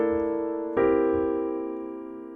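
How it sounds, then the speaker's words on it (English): Piano sounding locked-hand dominant voicings: one sustained block chord, then a second chord struck just under a second later that rings and slowly decays, clear and close with no talking. "So our locked hand voicings, with those 3 notes serving as our melody, sound like this."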